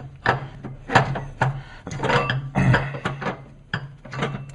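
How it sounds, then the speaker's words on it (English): Car alternator being slid and pushed into its mounting slot in an engine, a series of sharp metallic knocks, scrapes and clunks in uneven bursts, close and fairly loud. "Now I can slide the alternator back into the engine slot, or the alternator slot in the engine"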